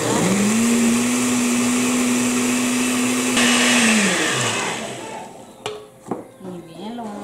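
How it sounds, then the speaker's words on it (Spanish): A kitchen blender whirs steadily while blending the recado sauce for Guatemalan chuchitos, a loud continuous motor hum for about four seconds before winding down and stopping, followed by a few clunks and a voice. "Vamos a licuar."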